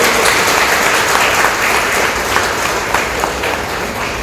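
Loud, sustained audience applause at a government training program event, many hands clapping steadily with a dense crowd wash throughout and no talk.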